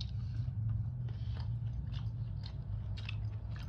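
Close crunchy bites and chewing of chips, repeated irregular crackles over a low steady background hum, with no talking.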